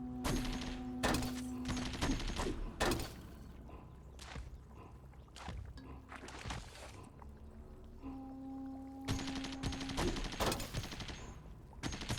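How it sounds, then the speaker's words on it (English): Chain gun turrets in Caves of Qud firing repeated bursts, with sharp crackling shots and sustained tonal hums, loud and near, continuing in waves. "Keeps putting down all these chain guns everywhere"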